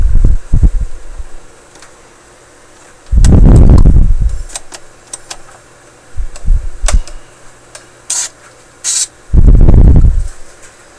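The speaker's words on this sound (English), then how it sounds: "I'm going to blast the same switch now with some very volatile contact cleaner" Very volatile contact cleaner is sprayed onto a switch of a Sony ICF-6800W radio in two short, loud hissing blasts, separated by small clicks and handling noises.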